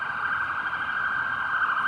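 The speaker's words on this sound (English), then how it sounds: "we get a police car, wait for this to pass, and it's an ambulance" An emergency ambulance siren wails steadily and loudly at night outdoors, continuous with no break and no talking.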